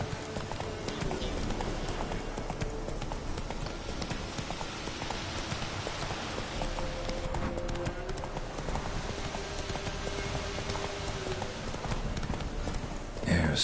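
Rapid rhythmic clip-clop of a horse galloping in a PS4 video game, steady hoofbeats over ambient game sound with faint tonal background, continuing throughout.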